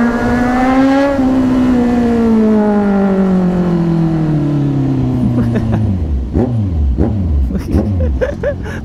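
Kawasaki Z1000 motorcycle fitted with an SC-Project 61mm exhaust, revving loudly and close by: a high rev held steady, then a long falling engine note that drops into rough, choppy low rumbles at the end.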